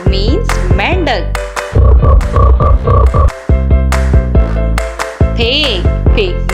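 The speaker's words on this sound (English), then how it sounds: "Frog. Frog means mendak." A frog croaks in a rapid, rhythmic series of throaty pulses in the middle, loud and close, set among cheerful musical tones.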